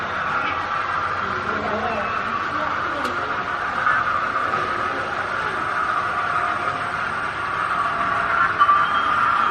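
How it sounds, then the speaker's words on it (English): A Hornby model railway layout with a Flying Scotsman locomotive running around the track, giving a low, steady mechanical whir and rumble under continuous talking. "Flying Scotsman going round."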